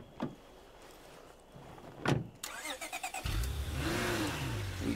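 A car in a survival video game: doors thud shut, then the engine starts and revs, its tone rising and falling, loud and close.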